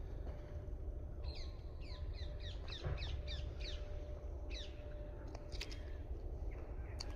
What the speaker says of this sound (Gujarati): લોકેશન જો કેવો પોપટનો અવાજ આવે છે,